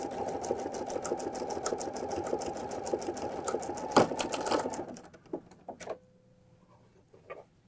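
A sewing machine runs in a steady, rapid stitching rhythm as it sews close to the edge of fold over elastic, then stops around the five-second mark, leaving a few soft clicks and handling sounds.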